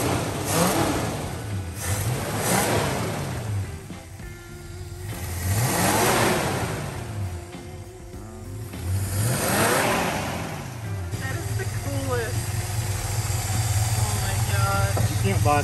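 Engine of an abandoned Plymouth Fury revving repeatedly, several rising and falling throttle blips in slow succession, then settling toward idle; close and loud with people talking at times.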